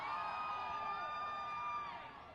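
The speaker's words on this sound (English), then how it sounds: "Crowd getting loud." Spectators at a boys' soccer match between Roseburg and Grants Pass: a steady, distant roar of crowd cheering and whooping holds evenly, then eases off at the end.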